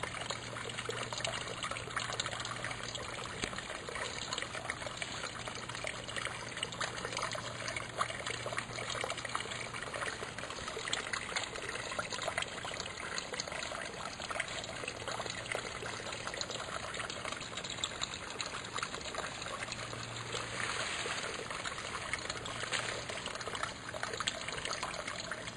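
Water trickles steadily through a drainage ditch in a steady, even stream with no pauses, moderately faint and close, with no talking.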